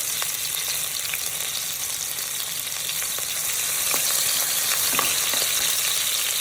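Green chilies with crushed garlic fry and get stirred in hot oil for a chicken curry, a dense, loud continuous sizzle with faint scraping ticks from the spoon.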